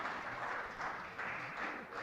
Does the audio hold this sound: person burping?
no